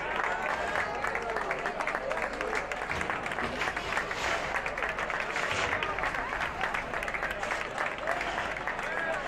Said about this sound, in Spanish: el aplauso para los patrocinadores